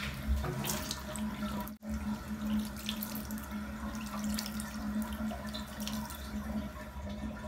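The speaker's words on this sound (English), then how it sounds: "Rinse off my face." Cold water runs steadily from a bathroom tap into a sink while a young girl rinses her face, a continuous close splashing stream with a brief break partway through.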